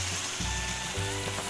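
Chicken salan masala fries in oil over a medium flame, a steady close sizzle with crackling pops and a few louder bursts throughout, without speech.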